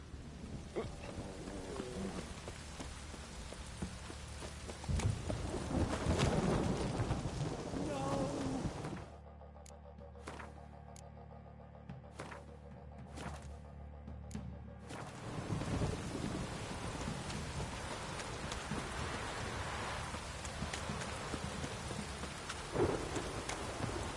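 Steady rain and rolling thunder in The Witcher game, a dense downpour that drops away to near quiet for several seconds with a few sharp crackles before the heavy rain and rumble return.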